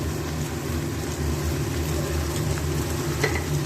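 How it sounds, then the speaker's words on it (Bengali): Onions fry in a pan with salt added, giving a steady, close sizzle with a continuous broadband crackle and faint stirring scrapes, no voices over it. "এবার পেঁয়াজগুলো একটু ভাজি।"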